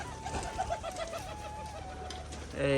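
Pigeons coo during a courtship display, a quick run of throaty, pulsing coos up close, trailing off before a brief louder noise at the end.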